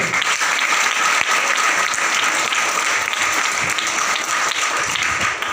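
A school audience of students in a government higher secondary school claps loudly and continuously, dense steady applause filling the hall throughout.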